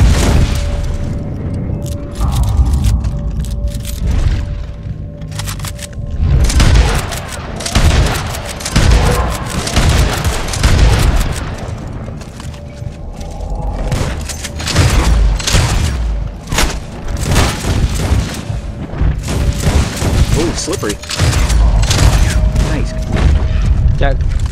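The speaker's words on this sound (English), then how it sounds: "Shotgun." Shotgun and other gunfire in the video game Red Dead Online, repeated loud booming blasts in a dense battle mix, with people talking throughout.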